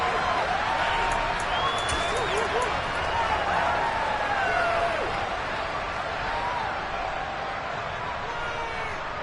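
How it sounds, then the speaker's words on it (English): Shouting and cheering from a video-game football stadium crowd swells behind a play-by-play commentator, the noisy crowd steady throughout. "Plenty of shouts from this crowd as they watch the replay."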